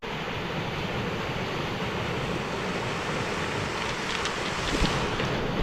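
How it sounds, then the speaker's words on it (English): Waves break steadily on the Lake Superior shore, a continuous loud wash of surf mixed with wind rumbling against the microphone, with no voices. "Love hearing the sound of the waves."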